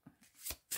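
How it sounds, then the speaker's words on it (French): Tarot cards are shuffled and drawn in a few soft, quick riffles and flicks close to the microphone, with no talking. "Je vais vous tirer 3 petites cartes."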